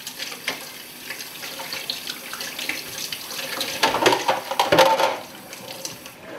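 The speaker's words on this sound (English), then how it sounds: "I'm just going to wash my hands before I put it on the fire" A tap runs steadily while hands are washed beneath it, water splashing and swelling louder midway as hands move through the stream, near and continuous, at an outdoor cooking spot.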